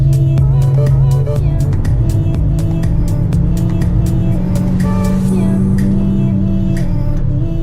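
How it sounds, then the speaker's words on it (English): A car passes by on the road, its engine and tire noise steady and fairly close, with a loud continuous rumble throughout. "Another car coming."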